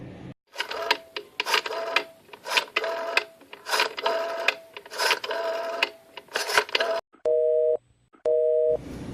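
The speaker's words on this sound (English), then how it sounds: "The line is busy." A telephone busy signal sounds near the end as two short, steady tone bursts with a gap between them, after a run of rhythmic mechanical clattering.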